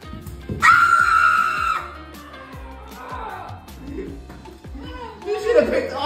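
A person screams loudly in fright during a prank, a sustained high shriek followed by a second burst, with excited voices and chatter around it.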